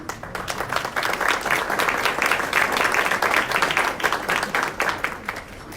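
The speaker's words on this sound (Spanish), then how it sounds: "Hoy invitamos al doctor José Narro Robles, por el que pido un fuerte aplauso." An audience at a talk on Mexico's health institutions bursts into sustained applause, a dense wash of many hands clapping that swells and then tapers off.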